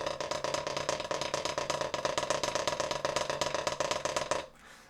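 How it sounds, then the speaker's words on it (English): A snare drum buzz roll played close and steady, a dense continuous rattling press of strokes lasting about four and a half seconds before stopping abruptly into a faint room tail. "a buzz roll sounds like this in the end."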